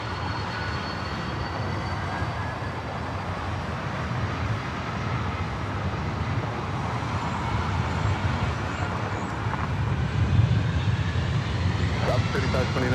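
A Delta 767-300ER takes off from runway 24 left at LAX, its engine roar building steadily louder toward the end, with a faint whine above the broad rumble.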